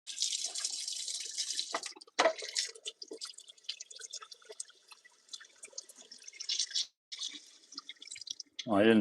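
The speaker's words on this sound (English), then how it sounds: "I hear water." Water runs from a tap through old plumbing in a cramped knee wall space, splashing and dripping in an uneven stream, broken by short pauses and a low rumble near the end.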